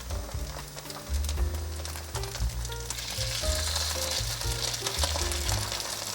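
Pancakes sizzle steadily in a hot pan as their edges crisp, with occasional scrapes from a spatula, all under background music.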